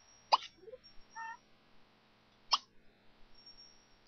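A cat in The Sims 3 gives two short, sharp hissy cries about two seconds apart, with faint chirpy vocal bits between them over a quiet background.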